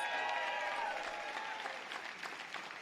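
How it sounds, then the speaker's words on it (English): Alumni Association members at a high school ribbon-cutting ceremony are greeted by a steady round of audience applause, dense and sustained for the whole stretch without pause, heard from a moderate distance. "Give our alumni a big round of applause."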